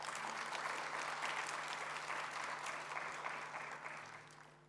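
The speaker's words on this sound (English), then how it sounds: "Please express your gratitude by a big applause." A crowd applauds steadily for several seconds, the clapping fading toward the end.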